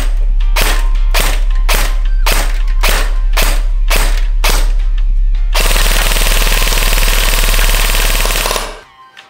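An Arcturus airsoft rifle with the FE ETU electronic trigger system fires a string of loud, sharp single shots in quick rhythm, then switches to a sustained full-auto burst, close and alone.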